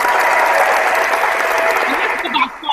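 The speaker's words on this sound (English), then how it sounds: "Let's give our callers a round of applause." A studio audience claps in a dense burst of applause for the callers of a talk show, fading toward the end.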